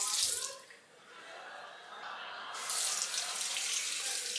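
Running tap water splashing in a sink while makeup brushes are scrubbed on a scrubbing mat, steady hissing flow that dips briefly, then returns stronger, close by.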